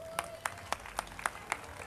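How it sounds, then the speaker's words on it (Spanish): Six sharp, evenly spaced claps at a steady rhythm, about four per second, ring out over a quiet background at a town's August festival celebration. They sound like a small group clapping in unison. "quiero pedir un fuerte aplauso"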